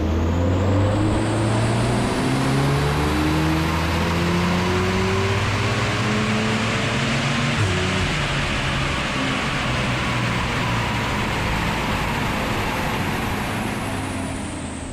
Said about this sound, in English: now I'm heading back to the dyno to run it again for a final power figure